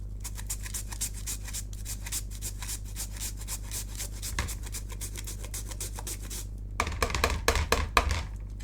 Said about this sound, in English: So using a grater like this, it doesn't mean oroshi, not mush.